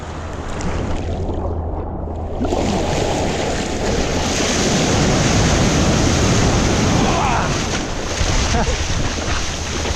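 Ocean waves churning in the surf zone at a beach, a broad continuous wash of water noise with wind buffeting the microphone, loud and close throughout.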